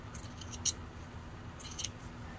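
Scissors snip through fabric scraps during a quilting project, two short crisp cuts, close and quiet, with no talk.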